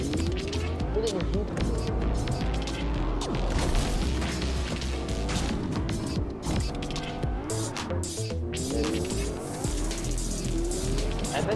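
A car driven through a Marvel video game: a steady engine roar with repeated tire squeals and skids, loud and continuous, while people talk over it throughout.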